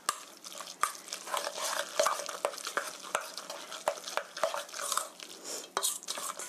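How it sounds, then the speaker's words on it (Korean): Thick dumpling pancake batter, stuffed with filling, being kneaded and turned by hand in a bowl, giving soft wet squelching and stirring sounds with a few sharper knocks, close and continuous with no voices. "반죽을 골고루 이렇게 치대듯이 돌려가면서 골고루 잘 섞어주세요."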